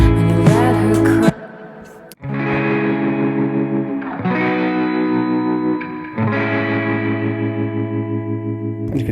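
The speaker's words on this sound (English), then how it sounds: "And you can hear that tremolo." Distorted electric guitar drenched in effects, with a pulsing tremolo that makes the sustained chords throb in a steady rhythmic wobble, loud and up front in a produced pop track.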